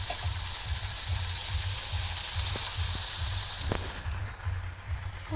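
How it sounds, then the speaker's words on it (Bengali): Luchi, puffed flatbread, fry in white oil in a wok with a continuous bright sizzling hiss over a low rhythmic bubbling, and a sharper crackle briefly flares near the end. "এখন কড়াইতে তেল ডালা হলো সাদা তেল ফুলকো ফুলকো লুচি"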